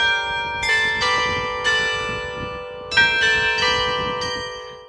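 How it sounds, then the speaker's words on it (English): Church bells ring out in overlapping, resonant strikes in Saint-Emilion vineyard country, several tolls layered with long ringing decay, loud and close with no voices. "the workers in the nearby vineyards in Saint-Emilion would hear the sound of bells ringing from 3 local churches"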